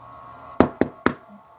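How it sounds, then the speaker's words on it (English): Three sharp knocks on a door ring out close and loud in a quick, slightly uneven sequence, with a quiet background before and after and no voices. "There's a knock on the door."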